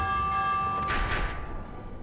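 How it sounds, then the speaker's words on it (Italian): In Minecraft Dungeons, a bell rings once with a clear, sustained metallic tone that shimmers briefly and then fades under low game ambience, with no one speaking. "Attivo la campana"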